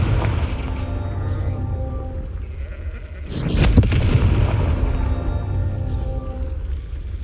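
A Confringo fire spell bursts in a goblin camp in Hogwarts Legacy: one fairly loud blast lands midway through, rising over steady ambient noise and bleat-like creature cries before and after.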